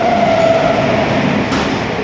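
The Howrah to Bengaluru express train rumbles past close by, a loud, steady rolling roar with a brief high tonal whine early and a sharp hiss near the end.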